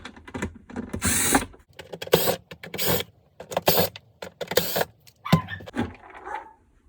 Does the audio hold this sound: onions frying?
no